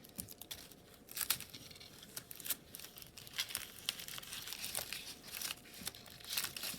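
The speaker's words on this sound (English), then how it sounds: "I'm going to take a piece of tape" Sticky tape is pulled from a roll and torn off while building a small craft tree, giving close, crinkly bursts of ripping and tearing scattered through the stretch with brief pauses between them.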